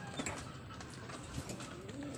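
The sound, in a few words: pigeons cooing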